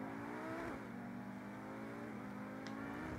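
A Pegassi Tempesta sports car in GTA V revs and accelerates, its engine note climbing through gear shifts in a steady, fairly faint drone with no talk.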